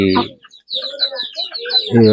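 Country fighting-breed chickens on a fenced farm kept alongside buffaloes cluck in short bursts, with louder calls at the start and end and softer scattered chatter in between.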